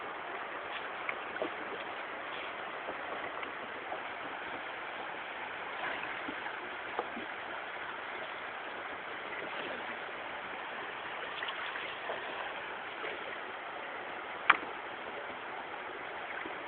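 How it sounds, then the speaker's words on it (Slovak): Foaming river water rushing past near an industrial park, a constant close-up hiss and gurgle of flowing current that carries on unbroken with no voices. "preto sa voda pení"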